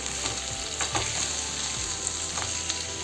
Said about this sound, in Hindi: इसके बाद इसे अच्छी तरह से फ्राई करेंगे